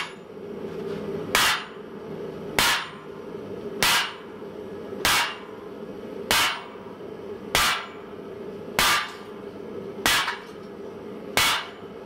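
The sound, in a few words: hammer forging steel on anvil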